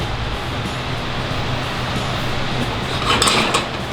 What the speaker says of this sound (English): We just gotta make sure that we're constantly stirring it, and you don't want it to burn or scramble or anything like that.